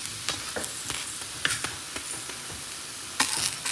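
Boras, fritters cooked in plenty of oil, sizzle continuously in a pan, with a steady crackling hiss broken by sharp spatters and occasional stirring clatters.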